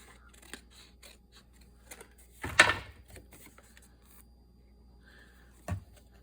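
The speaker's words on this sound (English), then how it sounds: "I'm going to trim this." Scissors trim paper for a craft ephemera holder, making a few light snips in a quiet room, with one louder, longer cut in the middle and another crisp snip near the end.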